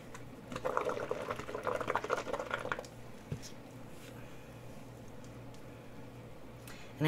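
Soap and water mixture, more water than soap, bubbling and sloshing in a cup as tumbler finish work is prepared. A close, busy liquid fizz lasts about three seconds, then drops to a quiet background.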